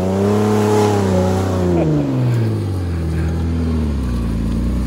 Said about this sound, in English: Oh, it sounds like a race car.